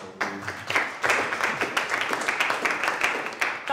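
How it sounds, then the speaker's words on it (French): A group applauding together at a gathering in the Democratic Republic of Congo, dense steady clapping that runs through the whole stretch at fairly close range with no voices over it. "Si ça va, faites juste ces applaudissements pour"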